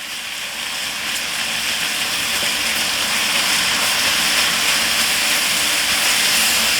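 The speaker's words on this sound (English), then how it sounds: "Put in our ground turkey. And start browning it off." Ground turkey sizzles and browns in a hot pan for chili dog cheeseburgers, a loud, continuous hiss that holds steady throughout with no talk.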